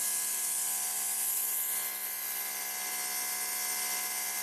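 A Greenworks Pro 2700 electric pressure washer sprays concrete, lifting dirt with a loud, constant high-pitched jet hiss over a steady motor whine, close and unbroken.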